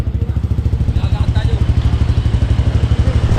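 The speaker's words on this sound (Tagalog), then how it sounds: "Iwan mo muna motor." A motorcycle engine idles close by with a rapid, even chug of low pulses that never lets up. Faint voices can be heard in the background.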